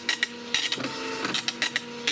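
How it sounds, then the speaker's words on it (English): An old dot matrix printer prints from a ZX Spectrum setup, with rapid bursts of buzzing head strikes alternating with brief pauses, close and clear, no voices. "Ah, the sounds of an old Doc Matrix printer."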